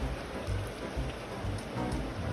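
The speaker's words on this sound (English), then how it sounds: "In the pouring rain" Pouring rain falls steadily, a dense continuous hiss with faint low pulsing underneath, heard without any voices.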